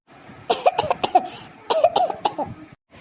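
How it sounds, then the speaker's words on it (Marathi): A cartoon character coughs in a run of short, close, hoarse bursts, two clusters of rapid hacking with a brief pause between them. "लय खोकला घेऊन राहणार तुला"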